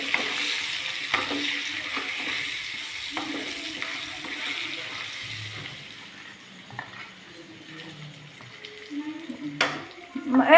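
Capsicum fries in a pan with a continuous crackling sizzle and a few stirring knocks, close up, gradually softening before a sharper clatter near the end; a voice is faintly present at times.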